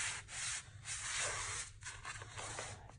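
Close, soft rubbing and brushing over a brand new Chalk Couture transfer as it is fuzzed up to remove excess, coming in uneven scratchy strokes with short pauses over a few seconds.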